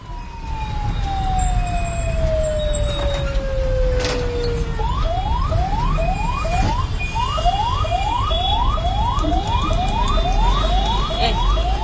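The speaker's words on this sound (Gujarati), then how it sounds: "એમ્બ્યુલન્સના સંચાલકે વારંવાર સાયરન વગાડી છતાં પણ તેને સાઈડ ન આપી હોવાનું ખુલ્યું છે।" Ambulance siren on a BRTS bus corridor road in Surat, India, first a long falling wail, then a fast repeated rising yelp cycling steadily, loud and close over a constant rumble of traffic.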